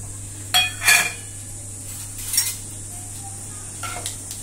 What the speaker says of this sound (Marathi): आता आपण हे टाकूया सगळं